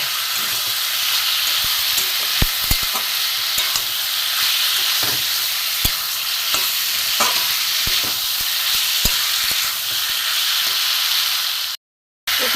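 Grated ginger and ground spices such as cumin sizzling steadily in hot oil in a pan for a chicken dal, with a spatula scraping and stirring in irregular knocks throughout, close and continuous.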